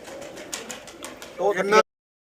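Soft pigeon cooing over a quiet outdoor background, ending in a brief louder burst of bird sounds before cutting off.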